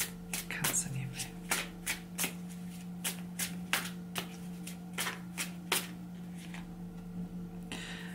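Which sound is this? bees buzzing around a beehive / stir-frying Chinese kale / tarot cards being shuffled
tarot cards being shuffled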